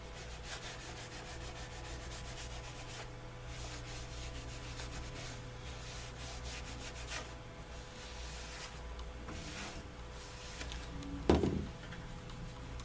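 Cloth wiping neatsfoot oil onto leather, soft repeated rubbing strokes in a steady back-and-forth rhythm close up, with a faint background hum and a brief knock near the end.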